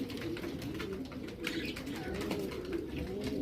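Several young homing pigeons coo continuously at close range, soft overlapping throaty murmurs with faint rustling and chirps mixed in.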